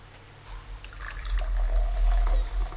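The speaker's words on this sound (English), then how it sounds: "That's just me pouring my tea." Tea pours into a cup in a thin, gurgling trickle that builds and steadies over a few seconds, close by and moderately quiet.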